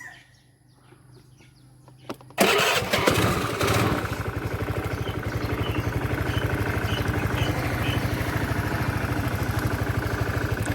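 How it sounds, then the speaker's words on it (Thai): A Honda Click scooter engine cranks and catches after a couple of seconds of quiet, then settles into a steady, close, even idle as it warms up without throttle. "เราก็ทำการสตาร์ทเครื่องเพื่ออุ่นเครื่องสักประมาณสองถึง สามนาทีครับ โดยไม่ต้องเร่งครับ"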